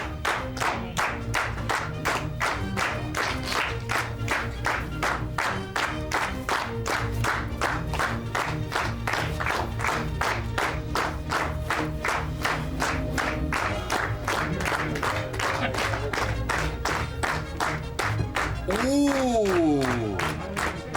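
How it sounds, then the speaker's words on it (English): A 1984 WWF Tuesday Night Titans studio audience claps in steady rhythmic unison, a fast even beat sustained for about twenty seconds, with a voice calling out loudly near the end. "A little bit of clapping would be very good tonight,"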